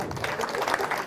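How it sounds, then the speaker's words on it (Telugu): A live audience at a motivational talk claps loudly in one brief, dense burst of applause, with a murmur of voices mixed in. "గట్టిగా చప్పట్లు కొడదాం."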